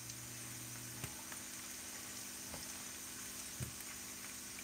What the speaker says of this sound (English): So I'm just adding my shrimp now.